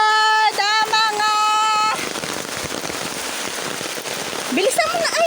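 Heavy rain hisses across a provincial yard after an opening of loud tonal sounds, the downpour then steady and dense, with faint voices and a brief rising tonal call near the end.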